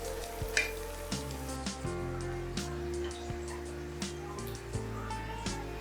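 Chicken sizzling and frying in a pan, a steady crackle with occasional louder pops and stirring sounds as pieces are turned, close up, no talking.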